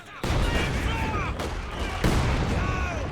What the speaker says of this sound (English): Mortar constantly going in.